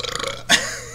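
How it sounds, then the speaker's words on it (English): A single short burp from a man, loud and close, following a stretch of his own speech. "don't search for a burp. That's just a little side effect of the things I eat and drink."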